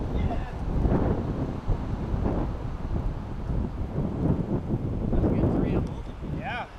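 Wind blowing outdoors at a disc golf park, low rumbling buffeting against the microphone that rises and falls throughout, with voices talking over it.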